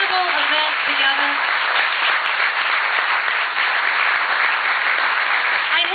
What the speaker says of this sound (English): can we give another round of applause to my friend Enzo Fienza